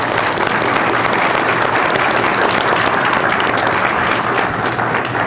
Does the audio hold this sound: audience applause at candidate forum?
yes